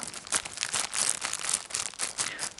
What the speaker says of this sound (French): je vais le déballer avec vous en toute relaxation. Surtout pour le bruit du fameux plastique.